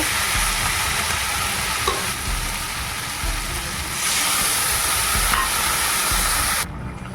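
Soybean chunks frying in a pan with spices give off a steady, dense sizzle, a continuous hiss that stays close and fairly loud, with faint stirring scrapes and no talking.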